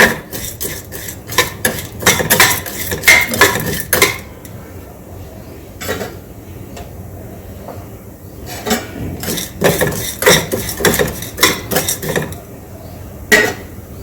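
Lentils are roasted and stirred in a pan with a metal spoon, producing repeated sharp scrapes and clinks in irregular bursts with short pauses between them, close and fairly loud.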